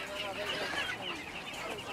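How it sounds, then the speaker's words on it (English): Hens and ducks with little ducklings on a farm cluck and chatter softly nearby in a faint, busy background. "And behind the cameraman there are some ducks, little ducklings and hens."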